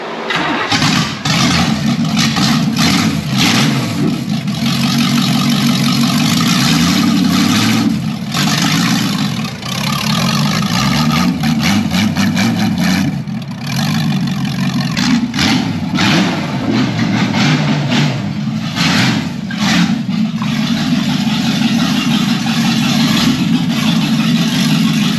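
Small-block Chevy twin-turbo engine in a Nissan Hardbody D21 truck, running with no mufflers, gives a loud, raw, steady rumble for the whole stretch with slight swells in level and no talking.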